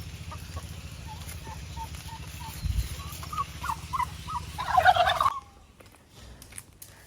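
A turkey hen gives a run of short, rhythmic clucks that build into a louder burst of calls, then stop abruptly.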